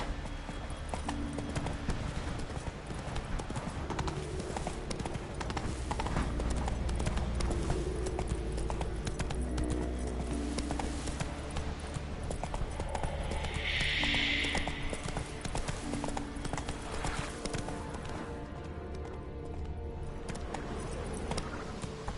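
Horse hooves gallop in the Witcher 3 video game, a steady rhythmic clip-clop running throughout over a quiet in-game background, with a brief higher-pitched tone in the middle.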